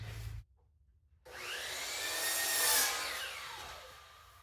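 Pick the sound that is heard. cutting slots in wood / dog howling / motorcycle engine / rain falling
cutting slots in wood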